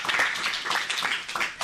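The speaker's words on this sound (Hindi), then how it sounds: "तो आओ मिलकर तालियां बजाएं" Audience applause for young child performers at a school cultural program in Bikaner, a steady wash of many hands clapping at moderate volume from start to finish, with faint voices mixed in.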